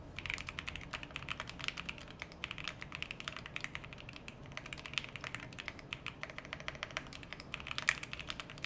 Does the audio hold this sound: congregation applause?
no